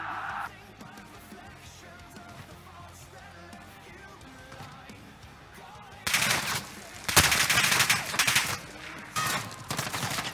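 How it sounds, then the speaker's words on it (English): Shotgun and rapid weapon fire in a 2v2 gunfight tournament video game erupts loudly after several seconds of quieter game noise, with heavy repeated blasts and bursts continuing to the end. "Fuck them up with that shotgun."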